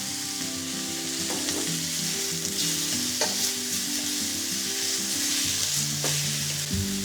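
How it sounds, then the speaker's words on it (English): Kangaroo meat sizzles and crackles steadily as it fries in a pan, a dense continuous hiss close by with occasional stirring clinks and low hum underneath, no talking. "So we're cooking the kangaroo."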